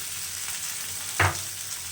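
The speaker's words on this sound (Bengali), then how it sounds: "দেখো ভাজাটা মোটামুটি হয়েছে" Chilli chicken with onions frying in a pan: a low steady sizzle, with one short, louder stir or splash of sizzling near the middle. No voices.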